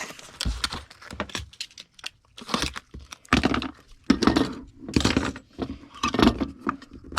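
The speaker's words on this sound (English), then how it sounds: "Let me replace the roll of tape here." A roll of packing tape is replaced with a series of close clicks, plastic rattles and crinkly tearing bursts separated by short pauses. No voices are heard.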